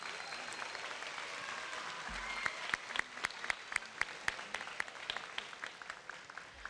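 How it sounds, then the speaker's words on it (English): Audience applause for graduating classmates at a high school moving-up ceremony, starting as a soft crowd murmur and growing into sustained clapping with distinct sharp individual claps ringing out close by. "let's give all of your classmates a lovely round of applause"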